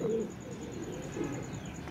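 A female pigeon gives soft low coos twice, faint against a quiet background hiss, with no talking.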